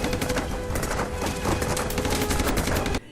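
Heavy gunfire from an enemy attack in a war film, a dense continuous barrage of rapid shots and bursts close and loud for about three seconds, then cut off abruptly.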